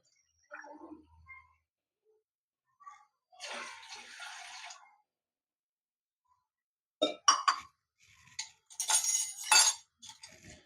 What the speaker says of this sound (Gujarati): આ આપણે આ 2 કપ આમાં પાણી લેશું